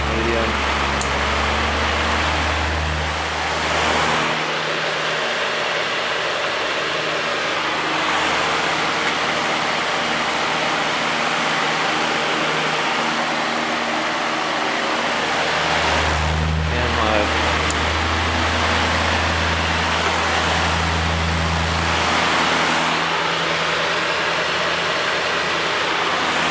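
A vintage Patton high-velocity fan runs at medium speed, giving a loud, steady whooshing roar of moving air with a low motor hum beneath it, continuous and unchanging for the whole stretch.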